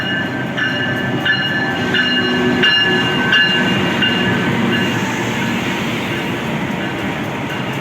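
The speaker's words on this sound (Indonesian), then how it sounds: "KA Supas ini juga termasuk kereta api lokal" A KA Dhoho local passenger train rolling along with loud steady rumble and rhythmic clacking of wheels over rail joints, heard from close by throughout.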